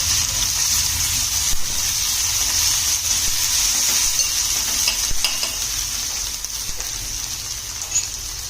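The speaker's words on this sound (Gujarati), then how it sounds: "આમાં મેં 2 મરચી, 10 થી 12 કળી લસણ અને 1 ઇંચ આદુ આ બધું એડ કરી અને આને ફૂલ એકદમ સાંતળી લેવાનું છે" Curry leaves, green chillies, garlic cloves and ginger sauté in hot oil for masala uttapam, giving a loud, continuous hissing sizzle that crackles like rain, with faint stirring throughout and no talking.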